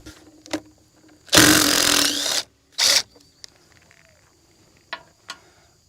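A small DeWalt power tool drives a short bolt on a Freightliner truck, with one long loud whirring burst of about a second, then a shorter second burst, followed by a few faint clicks.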